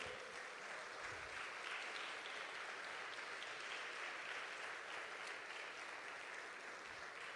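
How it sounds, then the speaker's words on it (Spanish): A church congregation claps together in sustained, dense applause during a Spanish-language service, heard as an even wash of hands clapping from a crowd at moderate distance, continuing without pause. "dale un aplauso al Señor"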